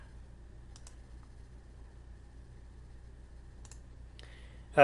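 Faint computer mouse clicks sound while working in Adobe Illustrator, a few sparse, quiet single and double clicks over a low room hum, with a louder click at the end.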